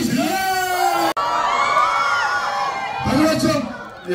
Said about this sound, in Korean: 여러분의 큰 환호와 박수로 드림의 주역들을 모시겠습니다.